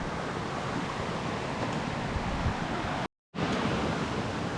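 Steady rushing water of a mountain stream beside a bench on Bukhansan's Jindallae ridge, a continuous broadband flow heard close and alone, broken by a brief cut of silence near the end.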